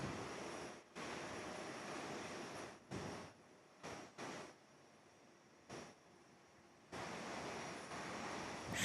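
A Qantas Airbus A330 airliner taxis at Perth airport, heard as a faint, distant engine rumble and hiss that swells and drops in uneven bursts across the outdoor scene.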